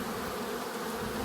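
Dense, steady buzzing of a honeybee swarm at a window, loud and close, unbroken throughout.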